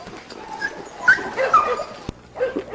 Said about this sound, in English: this is the dog we call Mabel